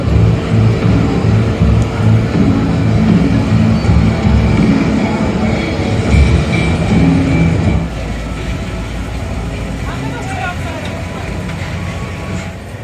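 A garden railroad train at a county fair rumbles past nearby with a steady mechanical clatter, loud at first and then dropping to a quieter hum, while people chat in the background.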